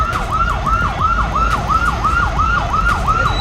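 An ambulance siren wails loud and close in a fast repeating up-and-down cycle, over a low rumble of traffic.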